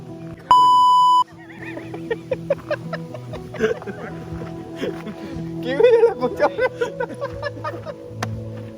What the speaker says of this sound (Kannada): ನಾವು ಬೀಪ್ ಮಾಡಿರ್ತೀವಿ, ನೀವು ಗೆಸ್ ಮಾಡಿ